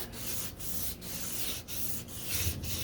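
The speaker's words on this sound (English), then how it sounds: "I'm going to be doing some more wet sanding" Steady rasping of wet sanding strokes with a sanding block on a 1969 Corvette deck lid, back and forth in a regular rhythm with brief pauses between passes, close up.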